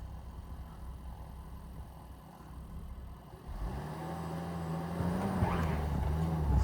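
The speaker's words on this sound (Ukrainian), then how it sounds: "Просто колеса крутять." A Land Rover Discovery 5 stuck in place with its wheels spinning: the engine drones low and steady, then grows louder and revs higher as the tyres churn without grip.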